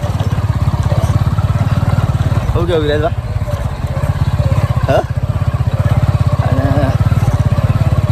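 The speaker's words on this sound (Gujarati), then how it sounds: "બાઇક ચલાવું છું" A motorcycle engine drones steadily throughout, close and loud, while voices talk briefly over it.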